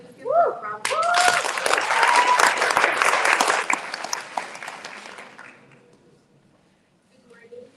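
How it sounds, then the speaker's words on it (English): Applause at an international human rights summit for a youth delegate, a full round of clapping rising after a brief voice, holding for several seconds, then fading out before speech begins again. "Please give them a round of applause."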